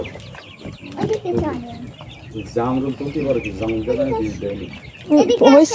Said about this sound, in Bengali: সো গাইজ এখানে রয়েছে অনেক মুরগি